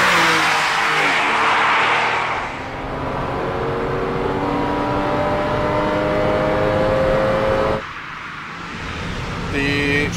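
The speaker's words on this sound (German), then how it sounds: "Volle 345 PS Motor beschleunigt hier das Fahrzeug bis zu einer Geschwindigkeit von" A Porsche 911 996 40th Anniversary with a 345 hp engine accelerates hard, its loud close engine note climbing steadily in pitch, then dropping at a gear change before pulling again.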